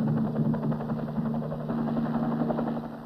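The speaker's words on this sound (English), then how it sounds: "Three hours later, an Arvin helicopter landed." A steady, droning engine of a South Vietnamese army helicopter in Vietnam hums continuously with a low rhythmic thrum, fairly loud and close, with no voices.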